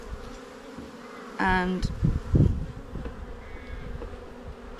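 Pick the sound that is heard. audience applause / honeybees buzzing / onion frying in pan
honeybees buzzing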